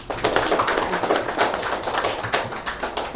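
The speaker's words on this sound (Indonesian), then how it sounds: "saya minta aplaus untuk Ibu Kepala Sekolah" Applause for a school principal at a school gathering, a steady patter of many hands clapping at once, fairly close and sustained throughout.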